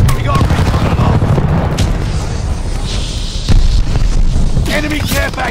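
Aircraft strafing runs in Call of Duty Vanguard team deathmatch: loud booming bursts of gunfire and explosions over windy rumble, with a voice talking at points.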